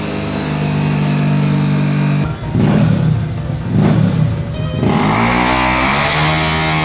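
A Honda PCX 160 motorcycle engine revs hard on a dyno, a loud, steady high-pitched drone with two brief dips where the throttle eases before climbing again, running continuously with no talk.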